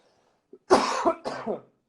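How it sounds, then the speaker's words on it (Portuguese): A person on a live online call gives a short wet, non-dry cough, a faint catch followed by two close, fairly loud bursts, with no talking. "a princípio não é coronavírus, é só uma tosse"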